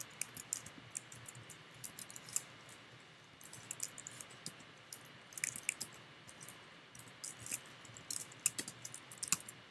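Quiet typing on a computer keyboard while editing a hosts file in a terminal: irregular bursts of light, close key clicks with short pauses in between and no voices.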